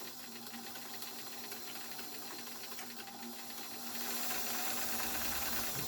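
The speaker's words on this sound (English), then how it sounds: "So while you're sewing, you can vary the width of your stitch to make your own patterns." A Bernina 730 Record sewing machine runs continuously while sewing a freestyle stitch of varying width, giving a steady, moderately quiet motor hum with a rapid needle clatter. The sound grows slightly fuller toward the end.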